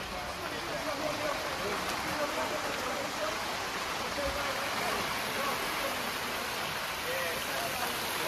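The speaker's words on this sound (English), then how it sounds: "Rain and sun at the same time." Steady rain falls with a dense, even hiss while the sun is out, rain on surfaces heard close, continuous and moderately quiet throughout.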